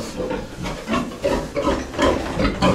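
A Duroc pig about 90 kilograms, awaiting slaughter in a farm pen, gives rough, breathy repeated grunts, close and fairly loud with a steady snuffling background.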